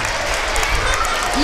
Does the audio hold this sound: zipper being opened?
no